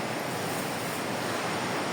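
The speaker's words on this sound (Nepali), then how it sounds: "अनि झरना बगेर रहेछ क्या" A waterfall pours into a pool at Galkot Gaighat, making a dense, steady rushing roar with no pauses, close and fairly loud.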